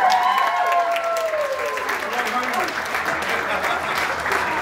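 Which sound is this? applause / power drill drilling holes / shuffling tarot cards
applause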